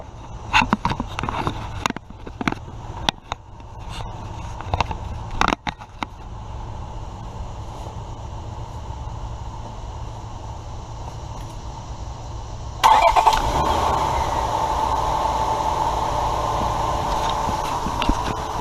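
A 2000 Honda Accord 3.0L V6 with fresh intake manifold and valve cover gaskets fires up after some close handling clatter, the engine catching abruptly and settling into a steady, loud idle hum.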